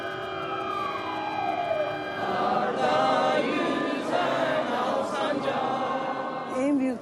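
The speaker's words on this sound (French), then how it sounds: "Les sirènes retentissent, le pays se fige." Sirens wail across Turkey at 9:05 on the anniversary of Atatürk's death, a long sustained tone with a slow pitch glide, loud and continuous throughout with a faint crowd murmur underneath.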